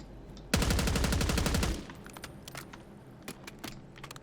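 Rapid automatic gunfire in Call of Duty Black Ops 6, a loud burst of about a second of fast repeated shots, followed by scattered fainter single cracks and clicks.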